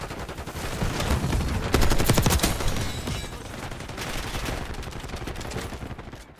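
Rapid sustained LMG fire in Black Ops 6, loud and close in dense stuttering bursts that peak midway and then continue with slightly lighter rattling volleys.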